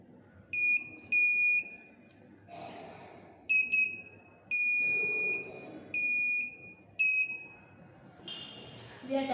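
An Arduino Uno buzzer in a student-built accident prevention system with ultrasonic sensors sounds a series of shrill, high-pitched electronic beeps in uneven bursts, some short and some held longer, with faint background noise between.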